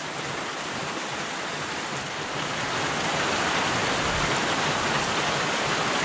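Steady mountain rain falling in Cloudcroft in New Mexico's Sacramento Mountains, a dense continuous hiss that swells slightly louder partway through, with no voices.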